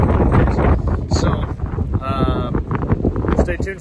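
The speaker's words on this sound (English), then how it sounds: "It's really windy out here right now." Gusty wind buffets the microphone outdoors with a steady low rumble, while someone talks over it throughout.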